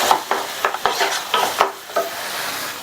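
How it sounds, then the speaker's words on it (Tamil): Mint leaves are sautéed in a hot pan, a light continuous sizzle broken by rhythmic scraping and stirring strokes, close and with no voices. "சேர்த்துட்டு ஒரே ஒரு நிமிஷத்துக்கு மட்டும் இந்த இதை நல்லா வதக்கி விட்டுக்கங்க."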